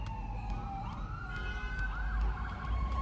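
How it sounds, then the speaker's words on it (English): Emergency vehicle sirens wailing through Atlantic City streets, with overlapping rising and falling tones over low traffic rumble, moderately distant. "sirens are blaring everywhere"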